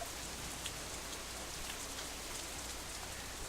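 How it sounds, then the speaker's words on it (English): Rain pattering on an umbrella in the Katawa Shoujo visual novel, a steady, even hiss of dense drops with no voices. "Raindrops hitting the umbrella make a distinctive sound"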